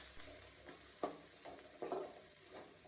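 Mustard seeds, dried chillies and chopped onions fry in hot oil in a pan, a steady sizzle broken by a few louder scraping stirs from a spoon, close by with no talking.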